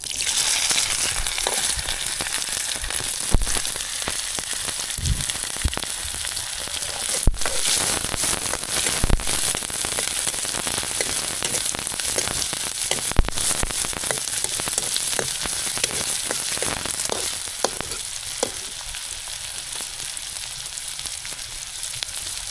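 Chopped onion and green chili frying in hot oil with roasted cumin, a dense continuous sizzle with scattered crackles and occasional spoon scrapes against the pan, steady and close.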